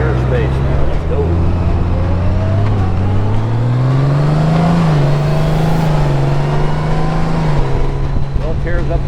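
A 2023 Honda Goldwing DCT touring motorcycle's engine drones loudly on the move under heavy wind rush, its pitch climbing steadily as it accelerates before dropping with a gear change near the end.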